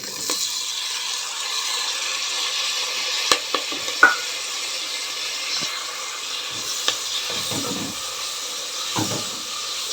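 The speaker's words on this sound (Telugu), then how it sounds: "కరివేపాకు వేస్తున్నాం నెక్స్ట్ టమోటా అయితే యాడ్ చేస్తున్నాం" Curry leaves and tomato go into a hot pan of oil for a millet vegetable khichdi, giving a steady close sizzle and hiss with a few sharp clinks and stirring scrapes, and no talk.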